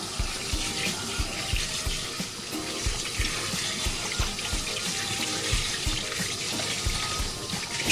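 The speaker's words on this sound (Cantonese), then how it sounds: "用水喉水沖返乾淨佢" Tap water runs steadily into a sink, rinsing boiled pork tripe under the faucet, a continuous splashing wash with small knocks and no speech.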